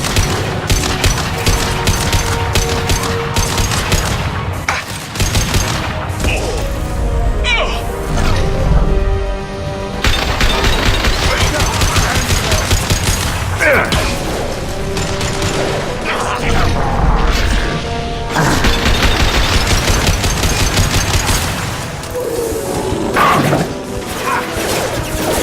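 Dense gunfire and crashing impacts in a Mass Effect battle on Omega, with rapid bursts, thuds and mechanical clanks loud and continuous throughout, while voices call out over the fighting.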